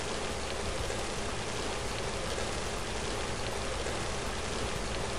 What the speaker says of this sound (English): Oh, why does it have to be raining?